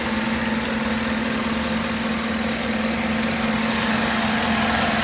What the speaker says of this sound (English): As you guys can hear, the engine is super clean, quiet.